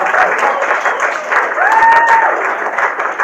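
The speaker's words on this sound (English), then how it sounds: "Give him a round of applause." A crowd claps steadily for a few seconds, a dense, moderately loud patter of applause with a faint whistle rising partway through.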